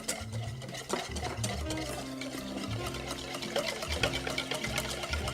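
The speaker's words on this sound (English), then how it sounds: "And just start whisking. This will get lots of air in there." Egg yolks are whisked briskly in a bowl, a soft rapid rhythmic clatter and swish repeating steadily, close and fairly quiet with no talk.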